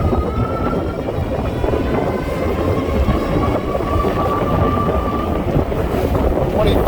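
A cargo e-bike ridden flat out on throttle along a straightaway, heavy wind buffeting the microphone with a steady roar and a faint motor whine underneath, continuous and loud throughout.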